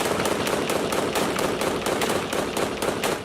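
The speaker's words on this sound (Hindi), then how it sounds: "ऑटोमेटिक राइफलों से लैस ये लड़ाके सीरियाई सैनिकों पर ताबड़तोड़ गोलियां बरसाते नजर आए।" Rapid bursts of automatic rifle fire in combat, a dense, loud, continuous rattle of closely spaced shots with no pause.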